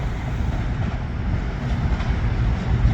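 Cross-country Voyager train pulling into a station platform, a steady broadband rumble and hiss of the moving train held at a near-constant loud level throughout, without talk.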